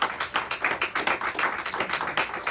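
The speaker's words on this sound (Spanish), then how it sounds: "denle un aplauso a Cristo." A church congregation claps together in a dense, steady wash of hand claps, loud and close, continuing throughout with no talk over it.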